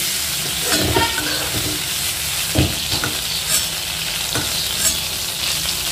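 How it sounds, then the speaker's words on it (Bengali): Prawns stir-fried briefly in hot oil in a pan for an elephant foot yam and prawn dish, giving a steady close sizzle with a few sharper scraping and stirring clatters. "চিংড়ি মাছ বেশিক্ষণ ধরে আমি ভাজবো না, বেশ 2-1 মিনিট ধরে একটু নাড়াচাড়া করে এটাকে আমি তুলে নেব।"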